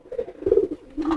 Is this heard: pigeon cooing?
yes